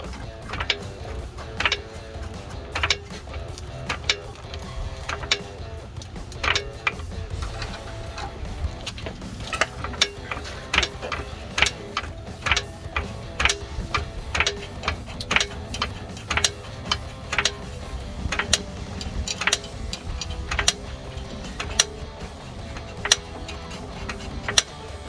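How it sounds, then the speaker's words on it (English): A ratchet tightens the U-bolts on a 2007-2018 Chevrolet Silverado 1500 during a lift kit install, giving off rapid clicking bursts in repeated strokes with short pauses between them, close and clear. "you want to try to tighten these evenly"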